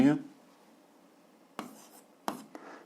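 Handwriting marks values into a table for a 7th-grade algebra exercise, short scratchy pen strokes after a brief opening sound, soft and close with quiet pauses between.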